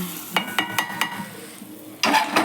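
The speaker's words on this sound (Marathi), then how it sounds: "कसं आपल्याला फोडणीचा आवाज येतो, फोडणी पूर्ण करपून नाही द्यायची" Tempering spices (phodni) crackle in hot oil for a stuffed-eggplant bharit, heard close as a handful of sharp pops and spoon clicks, then a louder burst of sizzle at the end, with no voices.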